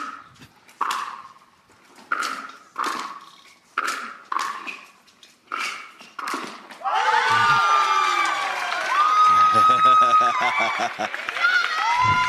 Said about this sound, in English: Cheering section loves it.